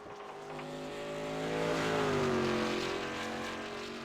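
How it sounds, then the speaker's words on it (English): A race car engine in iRacing, running at the Five Flags 150, drones steadily, then swells and lugs down in pitch mid-corner before picking back up, heard alone from the cockpit. "you can hear the engine kind of lugging down a little bit in the middle of the corner there"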